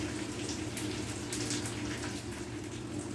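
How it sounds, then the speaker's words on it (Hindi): Water pours into roasted gram flour in a pan while kadhi is being made, giving a continuous, fairly close splashing trickle with no pauses. "बेसन सिक गया था तो मैं इसमें पानी डाल रही हूँ"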